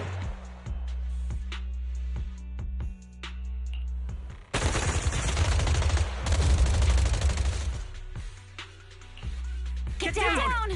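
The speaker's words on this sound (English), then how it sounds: "Gunfire? This pattern. Suppressive marching fire." Heavy bursts of suppressive marching gunfire erupt in the video game Zenless Zone Zero, a loud sustained volley that follows rhythmic thuds and music, with a voice speaking over the scene.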